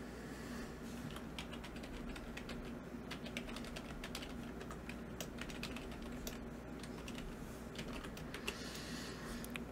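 Someone types login details on a computer keyboard, making steady quick key clicks at a fairly close distance over a low background hum, with no voices.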